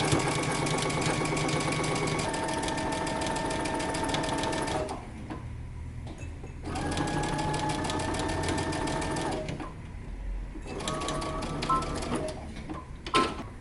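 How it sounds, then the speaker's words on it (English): Sewing machine stitching close to the edge of a casing on a dress waist, running in long steady whirring bursts with two brief pauses between runs, loud and near, no talk. "now I'm going to stitch close to the edge, both on the top and then again on the bottom"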